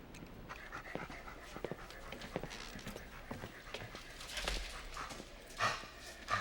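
A dog pants at a kennel, a faint run of quick, rhythmic breaths broken by a few soft thumps and shuffles nearby.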